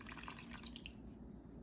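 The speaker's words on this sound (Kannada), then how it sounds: "ಸೊ 1/4 ಕಪ್ ನೀರು ಹಾಕ್ತಾ ಇದ್ದೀನಿ." Water poured from a cup into vegetable handvo batter made with thick curd, a steady close splashing trickle that fades after about a second.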